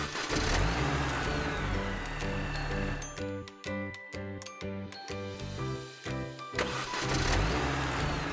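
Truck engine effect from a kids' vehicle puzzle game, a loud mid-pitched motor that starts up, chugs in a choppy idle with rhythmic pulses, then revs back to a steady roar; no speech.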